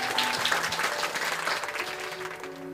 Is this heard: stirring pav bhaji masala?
no